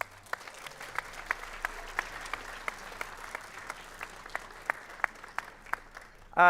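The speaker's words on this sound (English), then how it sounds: "Students, let's give them a round of applause." Audience at a school band concert applauding the parents, a soft bed of clapping from the crowd with sharper, evenly spaced claps standing out in a steady rhythm throughout.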